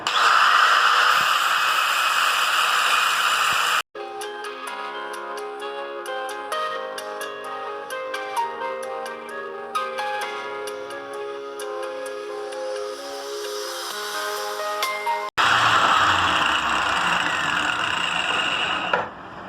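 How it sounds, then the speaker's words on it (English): An abrasive grinder blade cuts through scrap metal for a handmade dagger, a loud, steady, harsh whine at the start and again at the end, with a quieter tonal, ticking stretch in between. "So I'm thinking of cutting the metal by using the same blade."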